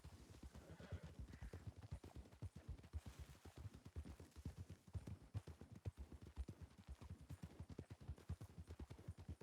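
Horse hooves clip-clopping in a Wild West roleplay game, a quick, steady rhythm of close hoofbeats carrying through the whole stretch with little else over them.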